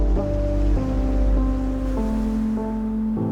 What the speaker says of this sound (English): when the tide finally does behave and the water washes over your feet